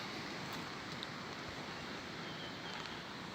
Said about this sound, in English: I'm sure you can hear the sound of water running along the river.